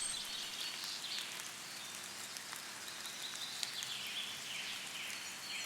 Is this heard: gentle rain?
yes